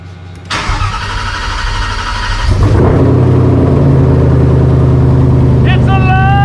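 A Ford Aluminator V8 in a Cobra Daytona build cranks briefly, then catches and fires into a loud, steady idle that drones on, with a short high-pitched whine near the end.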